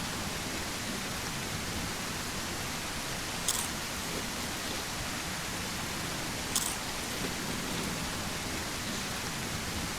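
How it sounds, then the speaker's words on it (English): Steady downpour in the Surroundead zombie survival game, a continuous broadband rain hiss with two brief sharp ticks cutting through, no voices present. "And it's pouring rain."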